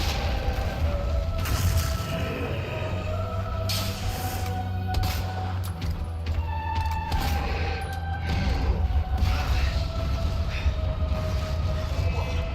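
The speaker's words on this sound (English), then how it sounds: "Let's just throw some grenades." Grenade blasts in Resident Evil 2 Remake during a final boss fight, a dense run of loud booming detonations and gunfire-like bursts rolling over a continuous rumbling game soundtrack with sharp transient cracks throughout.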